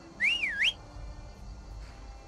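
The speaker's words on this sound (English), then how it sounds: "one of the most important mods I found, the whistle shout. So you can whistle for your horse when it disappears." A bright two-note whistle call, rising then sweeping, rings out clearly for about half a second as a horse is summoned in the video game Skyrim on Xbox, then fades into a low steady background hum.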